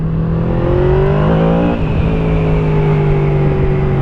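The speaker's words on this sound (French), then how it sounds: "Oh, ça pétarade" Yamaha V-Max motorcycle engine revving, a loud close throaty roar rising in pitch and then settling into a steady high idle, with no voices.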